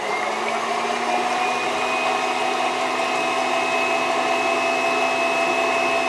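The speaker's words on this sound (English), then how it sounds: "So now I'm going to mix the egg white and the sugar" Electric mixer whisking egg white and sugar for a meringue, a loud steady motor whine that runs unbroken throughout with no talking.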